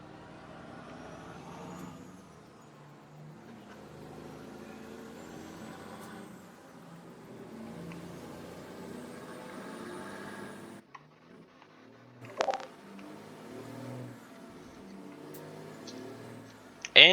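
A Freightliner Classic truck drives in Farming Simulator 22 with a steady low engine drone, a short lull, then sharp hissing bursts like air brakes near the end.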